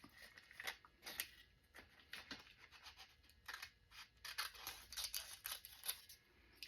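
Scissors snip through a paper doily for a miniature paper dress craft, quiet crisp cuts repeating in an uneven rhythm, close up with no voices.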